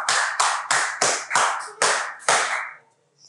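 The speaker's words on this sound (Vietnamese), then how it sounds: "Chúng ta tặng các bạn nhóm số 3 một tràng vỗ tay nhỉ." A classroom gives a short round of applause for a student group, seven or eight loud, even bursts of clapping close by that fade out after about three seconds, with no talking.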